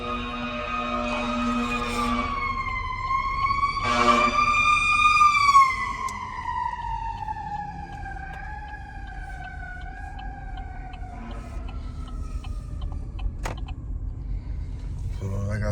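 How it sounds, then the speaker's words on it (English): A fire engine siren wails and slowly falls in pitch as it passes by, fading gradually over background street noise. "A fire engine flying."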